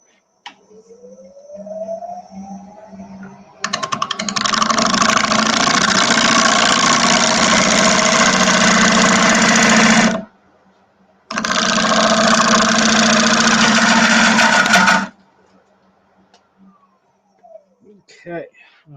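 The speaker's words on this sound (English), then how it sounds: "So I'm going to continue down until I need to switch to a different bowl gouge" A wood lathe spins a bowl while a bowl gouge cuts it, the motor winding up and then a loud scraping hiss of cutting in two long stretches broken by a brief pause, then winding down.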